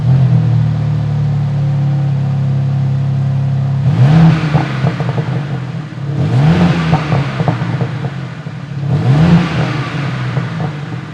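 Turbocharged BMW M4 CSL engine revved hard three times from a steady idle, each loud rev rising sharply then falling back, close and alone with no talk.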